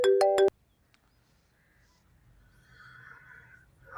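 A phone rings in a quiet home, with a short, loud, tonal ring pattern at the very start, followed by near silence and faint background sound.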